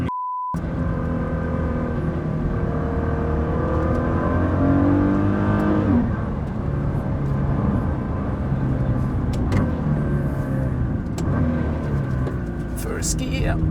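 A Nissan GT-R engine revs hard as it accelerates through first gear, a loud, close roar climbing steadily in pitch and then dropping back as it shifts, with voices talking over it.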